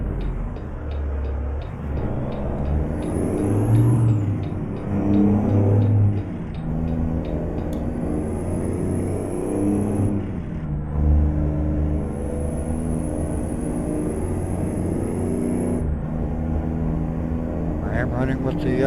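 Truck engine in American Truck Simulator running full manual with floated gear shifts, a steady low rumble with rising and falling revs through the shifts, heard under continuous talking.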